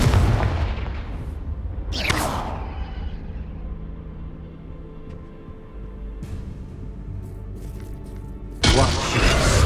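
Confringo explosive spell in the video game Hogwarts Legacy: a sharp blast near the two-second mark, then rumbling aftermath, and another loud impact burst at the end.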